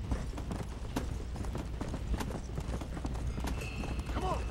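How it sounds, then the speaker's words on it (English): A fire horse gallops in the video game Red Dead Redemption: Undead Nightmare, rapid clip-clop hoofbeats running steadily over game ambience, with a brief neigh near the end. "I thought the fire horse had unlimited stamina."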